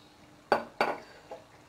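Soaked rice and lentils stirred into boiled meat in a cooking pot for haleem: two sharp clattering scrapes of a utensil against the pot, then a fainter third knock, close and alone with no talk.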